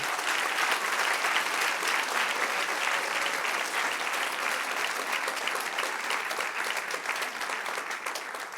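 A church congregation applauds the Lord during a Spanish-language sermon, with steady, dense clapping from a large crowd that holds loud and even for several seconds and then eases slightly toward the end.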